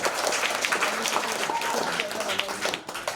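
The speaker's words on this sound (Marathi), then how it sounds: "मुलांना टाळ्या वाजवा" Children in a classroom clapping and applauding for a classmate, a dense patter of hands held for a few seconds with voices mixed in.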